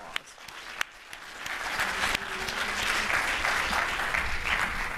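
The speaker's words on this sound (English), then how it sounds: "let's give them a big round of applause." A seated audience gives applause to a panel at a conference wrap-up session, starting with a few scattered claps and swelling into steady, dense clapping that lasts to the end.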